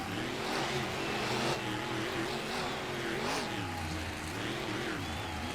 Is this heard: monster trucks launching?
yes